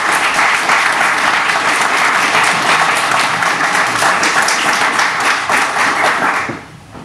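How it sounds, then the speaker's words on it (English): Wedding guests break into loud, sustained applause after a speech, a dense wash of many hands clapping close by for about six seconds before tapering off at the end. "Let's give her a round of applause."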